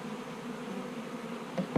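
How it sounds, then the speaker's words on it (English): Honey bees buzz inside hive boxes, a continuous soft drone held at a steady level, close by and without voices, with a brief knock near the end. "The majority of the bees are in both of these boxes"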